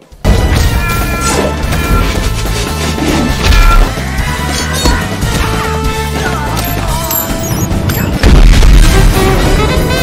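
A glitter-filled snake gadget bursts in an animated spy action comedy, giving a loud booming blast with crashing impacts over a dense, busy mix, and a second heavy boom lands near the end.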